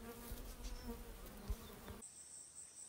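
Honey bees at farm apiary hives, a close, steady buzzing hum that cuts off abruptly near the end, leaving a thin high whine.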